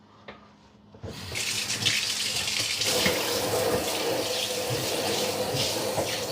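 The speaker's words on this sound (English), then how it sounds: "Rinse that off right there." Zucchini rinsed under a running kitchen faucet into a colander; after a second of near quiet the tap opens into a loud, steady splashing rush of water that continues to the end, with no talking.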